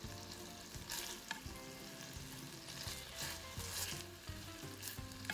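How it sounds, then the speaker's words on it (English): Skinless longanisa sausages fry in a pan after their cooking water has boiled off, giving a loud, steady sizzle with occasional scraping stir sounds throughout and no talking. "So we continue frying it."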